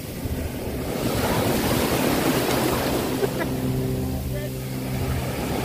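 Rough sea surf roars in a continuous wash off Montego Bay's beach during a kayaking outing, loud and close, with wind buffeting the microphone, a boat motor humming faintly and people talking over it.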